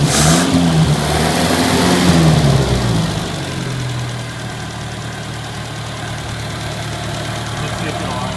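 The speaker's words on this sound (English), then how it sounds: "It's idling a little high." A 1980 Chevy Luv engine idles slightly high, a steady mid-pitched hum that rises briefly at the start before settling into an even, continuous run, with a voice talking over it.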